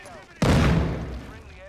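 A single heavy, booming gunshot lands close by in Call of Duty: Modern Warfare II, cutting through a low background and ringing out in a long, fading tail.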